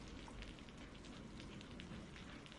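Steady rain patters on a surface as a dense, even hiss of drops that holds constant throughout, with no voices or other sounds over it.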